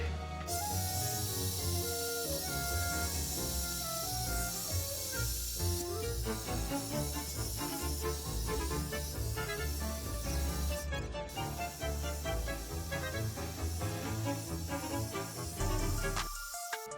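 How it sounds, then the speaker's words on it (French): A hair dryer blows with a steady, loud hiss throughout, partly masked by background music with a clear melody, briefly cutting out near the middle. "C'est parti pour le sèche-cheveux."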